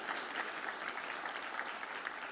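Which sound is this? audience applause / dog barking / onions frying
audience applause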